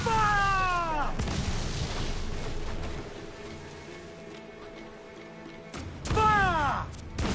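Ship cannons firing during a naval battle in the video game Assassin's Creed IV: a loud booming volley with whistling tails at the start, a lull with low rumble, then another heavy cannon blast with descending whistles near the end.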